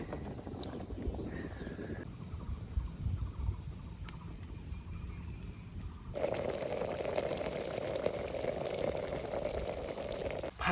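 Handi chicken simmering with very little water in a pot, a soft bubbling and hiss that grows louder partway through, faint and close.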